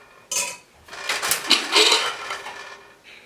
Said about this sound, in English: Let me check the pressure and open the pressure cooker.